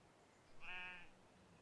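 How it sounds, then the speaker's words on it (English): One short sheep bleat from the Train Sim World 6 East Coastway route, wavering and clear at moderate volume, rising out of near silence and fading quickly. "Sheep."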